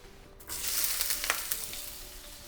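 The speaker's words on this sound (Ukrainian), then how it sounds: "Смажимо цибулю надовго, десь 2-3 хвилинки" Steady hiss and sizzle of onions frying in hot oil, with small crackles and pops, close up and continuous.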